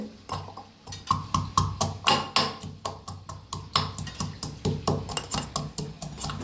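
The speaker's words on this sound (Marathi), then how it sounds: "अद्रक कुटून घेऊया पहिले." Fresh ginger is pounded for tea while the water heats on the stove: close, sharp thuds repeat in a steady rhythm of about three per second throughout, with no talking.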